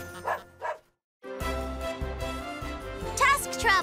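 A cartoon sled dog in an Arctic scene barks, a couple of short yips at the start, then lively barking mixed into music and voices.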